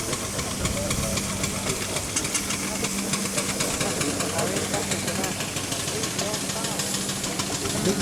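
A 4.5-inch scale miniature steam traction engine hisses and chuffs steadily up close at an outdoor show, with a low mechanical hum running underneath throughout.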